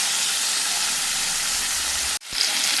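A large tomato fries in hot oil with a loud, continuous sizzle that cuts out briefly and then resumes.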